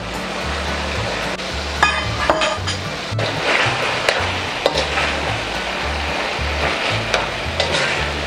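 Carrots stir-fried over medium heat in a pan for igado, a dense continuous sizzle with frequent utensil scrapes and clinks against the pan, close and fairly loud, no talk.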